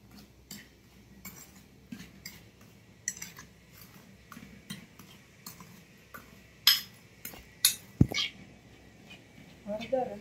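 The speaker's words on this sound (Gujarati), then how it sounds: "અને હળદર અને મીઠું બંને મિક્સ કરી લેવાનું।" A spoon mixing turmeric and salt in a bowl for an instant lemon pickle, with light scraping and scattered metallic clinks and taps, louder knocks near the end.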